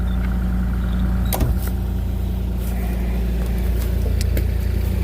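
Diesel excavator idling during exhaust regeneration, a steady low drone with a faint whine on top, broken by a few sharp clicks and clanks near the middle, no talk.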